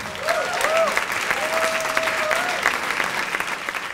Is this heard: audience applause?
yes